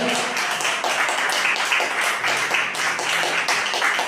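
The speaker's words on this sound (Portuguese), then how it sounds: "palmas bem forte para Jesus" A church congregation claps hands together loudly and steadily, a dense wash of many palms sounding at once without a break.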